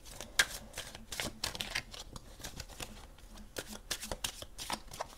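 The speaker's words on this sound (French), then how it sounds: "On va aller tirer quelques cartes pour conclure ce tirage pour les scorpions." Tarot cards being shuffled in the hands, a run of quick riffling and flicking bursts heard up close and fairly quiet.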